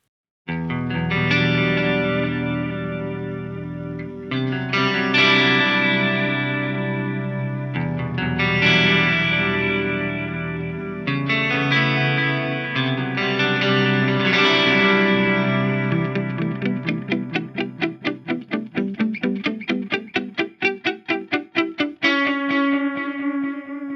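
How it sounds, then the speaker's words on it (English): Tape echo algorithm on an Eventide H9 effects pedal, processing a melodic guitar line whose notes repeat and smear into warm, slightly saturated echoes; loud and continuous with no voices. "Here's the tape echo algorithm."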